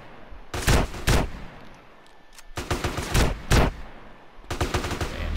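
Gunfire in GTA San Andreas comes in three loud bursts of rapid shots separated by short pauses, each volley crisp and close with sharp cracks.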